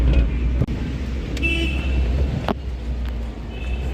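Steady rumble of Mumbai street traffic from inside a moving taxi, with a few brief car horn toots and passing engines.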